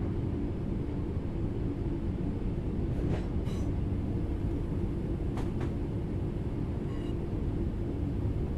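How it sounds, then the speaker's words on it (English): A locomotive coasts on level ground with the throttle at zero in the Train Sim World 4 video game, giving a steady low rumble of rolling wheels with a few faint clicks of rail joints. "The train will then coast on level ground, and the train will only slow down very gradually."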